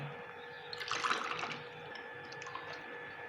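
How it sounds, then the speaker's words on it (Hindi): Freshly made falsa juice poured into a glass over ice cubes, a brief liquid splash and trickle in the middle, faint and close, with quiet room tone around it. "अब हम इसमें फ़ालसे का जूस डालेंगे जो हमने अभी तैयार किया है।"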